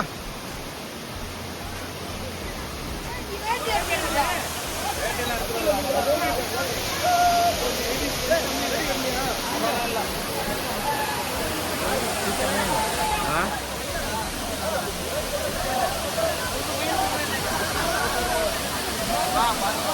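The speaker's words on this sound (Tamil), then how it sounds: "அருவி சூப்பரா இருக்குல்ல" A waterfall rushing as a steady, broadband roar of falling water that fills the scene, with people chatting and exclaiming over it throughout.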